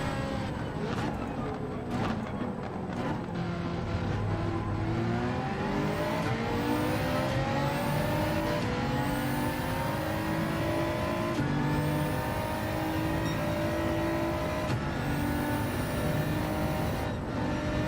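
A race car engine in Gran Turismo 7, played in VR, drones steadily and climbs in pitch as it revs up through repeated gear changes, loud and continuous with no pauses.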